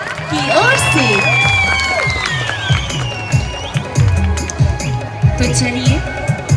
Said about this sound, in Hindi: जोरदार तालियां जनता की ओर से